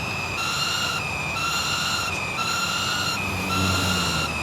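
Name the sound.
electric race car engine whine in Forza video game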